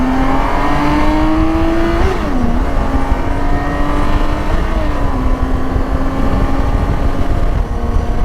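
A 2019 BMW K1600B motorcycle accelerating, loud close engine note rising in pitch, dipping briefly at gear shifts and climbing again, with heavy wind rush throughout.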